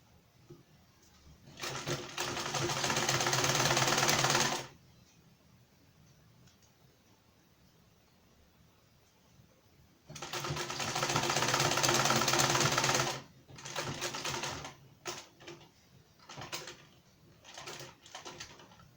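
Two long bursts of sewing machine stitching through the four layers of a two-piece standing shirt collar, about three seconds each, with a quiet pause between and short stop-start runs afterward.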